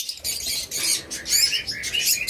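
A pair of pet opaline parrots, one with masking, chirp and tweet in quick, bright bursts. The calls come close and overlapping, with brief pauses between clusters.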